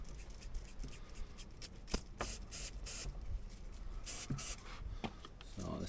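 Lanoguard rust protection spray is applied from a nozzle to the underside of a Land Rover Defender 90, giving several short, close hissing bursts separated by handling and rubbing noises.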